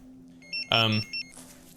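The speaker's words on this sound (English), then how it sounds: "Alarm, I need to get back to the car." Alarm in the horror video game Abandoned Souls: a short electronic beeping tone pulses twice around a louder harsh blast, fairly close and clear, with no talk over it.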